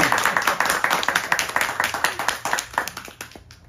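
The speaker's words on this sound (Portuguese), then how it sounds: "uma salva de palmas" A crowd claps steadily and briskly, a dense patter of many hands that holds strong before thinning out near the end.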